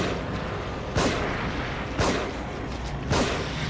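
Three loud, sharp gunshots from the video game The Evil Within at roughly one-second intervals over a constant noisy background, with no speech.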